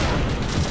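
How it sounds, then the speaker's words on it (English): Distant gunfire in the Battlefield Vietnam video game, a continuous dense rumble of far-off shots and booms with no clear separate reports. "Hear all the gunfire in the distance?"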